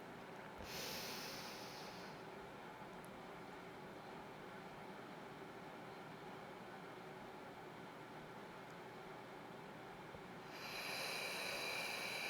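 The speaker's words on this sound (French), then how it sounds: "Expirez tout votre air, puis prenez une respiration naturelle." During a calming breathing exercise, slow deep breaths are heard close up: a long soft airy exhale, a quiet stretch of steady hiss, then another inhale rising at the end, with no speech.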